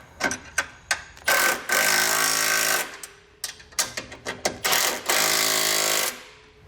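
A power drill bores holes for a Roadmaster Direct-Connect tow base plate on a 2017 Buick, with repeated loud short bursts of whirring and grinding, some brief and some sustained a second or more, separated by short pauses.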